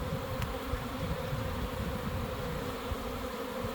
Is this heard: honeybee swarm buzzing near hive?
yes